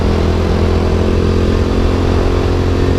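A Boom Vader Grom clone motorcycle runs at full throttle with a loud, steady, buzzing engine drone, held constant and close-up for the whole clip, with no talk.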